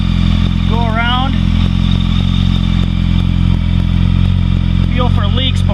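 A Kawasaki Concours motorcycle engine fitted with a Two Brothers exhaust idles loud and steady close by, while someone speaks briefly near the start and end.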